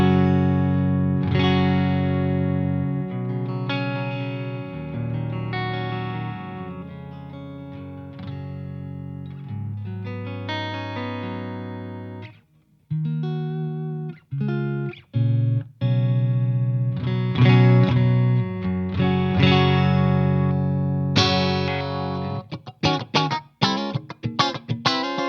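Clean tone from a Soldano Astro 20 guitar amplifier played through single-coil pickups, with a steady stream of picked notes and chords, a short pause midway, then more phrases closing on quick choppy strums.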